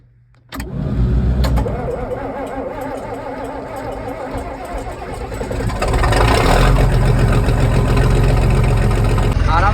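A large tractor diesel engine cold-starts, cranking and catching at once, then settles into a loud, steady idle that rises to a heavier rumble partway through, close by.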